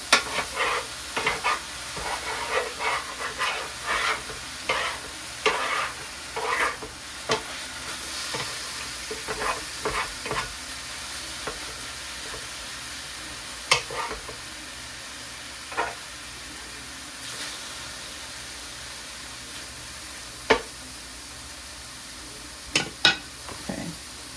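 Food sizzles steadily in a frying pan while a wooden spoon stirs it, with scraping clicks and taps scattered through the continuous hiss.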